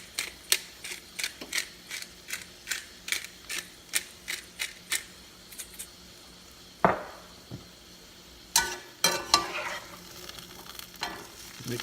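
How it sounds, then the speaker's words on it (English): Chicken with green beans and mushrooms is stirred in a pan: a steady rhythm of close scraping strokes over a soft sizzle, pausing briefly, then a few quicker scrapes. "Mix it up real good."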